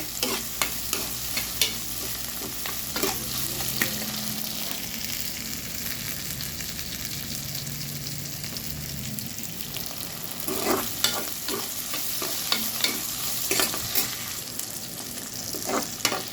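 Steady sizzling from onions frying in a hot pan, with intermittent scraping and tapping as a utensil stirs the contents.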